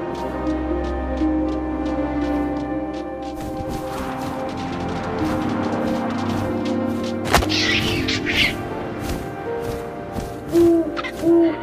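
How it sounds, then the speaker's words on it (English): An owl hoots in the video game What Remains of Edith Finch, loud over a steady wind-like ambient bed, with a few sharp knocks and rustles partway through. "And suddenly, I was an owl."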